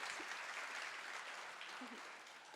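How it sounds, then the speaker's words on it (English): An audience at a fashion talk claps in a steady, moderately distant wash of applause that holds for a couple of seconds and gently fades. "That deserves an applause"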